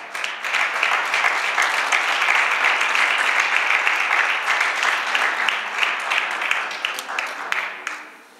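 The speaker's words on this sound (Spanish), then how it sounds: "Dale un fuerte aplauso al Señor en esta hora." A church congregation breaks into loud, sustained applause during a Christian worship service. The many hands clap as a dense, close roar that holds steady for about eight seconds and then fades out, with faint voices mixed in.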